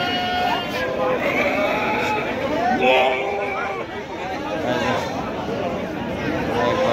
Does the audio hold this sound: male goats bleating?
yes